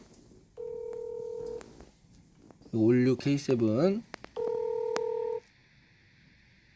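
Two long steady telephone tones sound about three seconds apart, and someone speaks briefly between them.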